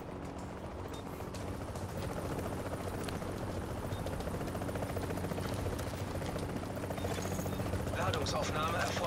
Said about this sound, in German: Da kommt der Heli, oder? Ja, da kommt er.